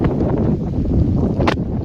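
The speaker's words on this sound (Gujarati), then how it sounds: "અને પાછો પવન અત્યારે જો ચડતો આવે છે" Loud wind buffeting the microphone in a continuous low rumble over a cotton field on a cloudy morning, with a brief gust-like burst near the end.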